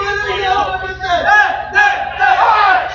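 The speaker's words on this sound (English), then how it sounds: "Macomb crowd, Macomb supporters really enjoying themselves here now." Supporters of the Macomb side cheer and holler at a cricket match, a loud crowd roar that swells in several waves over a steady low rumble.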